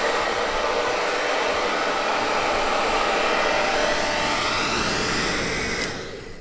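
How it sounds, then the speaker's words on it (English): A hair dryer blasts at full speed and full heat as a loud, steady roar that holds unbroken for several seconds before cutting off near the end. "we're almost 1500 watts at full speed with full heat with a hairdryer"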